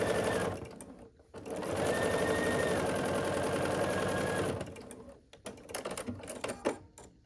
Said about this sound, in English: we're going to sew across this with a 1/4 inch seam allowance